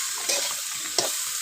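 Water lily stems with small fish being stirred in a hot pan with mustard, a steady sizzle and frying hiss broken by two brief scraping stirs.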